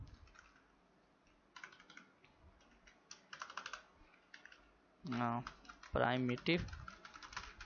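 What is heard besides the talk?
typing on a computer keyboard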